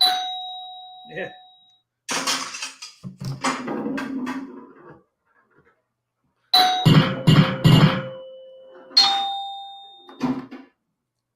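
Bright electronic pinball table chimes and bell tones ring out in bursts, separated by clattering mechanical sounds, with a brief spoken word early on.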